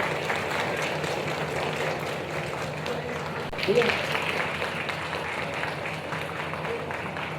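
Audience at a public event in Asansol launching a women's safety squad clapping steadily throughout, a moderate spread-out applause with a brief louder swell partway through and voices mixed in.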